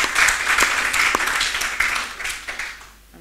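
An audience at a university celebration for its School of Tourism and Hospitality breaks into applause, a full burst of clapping that thins and fades toward the end.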